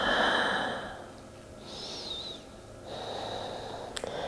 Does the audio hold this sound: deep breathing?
yes